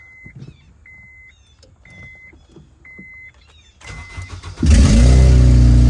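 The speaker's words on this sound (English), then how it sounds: "Luke's gonna start the car." A 2008 Honda Civic Mugen Si with a built transmission starts up after a few quiet clicks and chimes, its engine catching and roaring loudly, then settling into a steady, close, full-throated idle.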